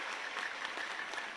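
Dense, steady applause from a crowd honoring Indonesia's vice president Gibran at an Islamic boarding school anniversary gathering, filling the short stretch at an even level with no talk over it.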